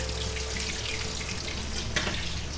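A canned chicken and cheese patty sizzles steadily in a hot pan just after being flipped, a continuous frying hiss with one brief sharper crackle partway through.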